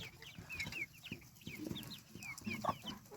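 Chicks and young guinea fowl cluck and peep together in a mixed flock, soft chirps and low clucks overlapping continuously, fairly quiet and close.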